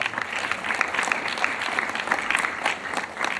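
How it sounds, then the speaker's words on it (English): Dense, lively applause fills a room during a panel discussion as an audience claps steadily for a panelist, many hands at once at fairly close range with no speech. "Yes, a round of applause"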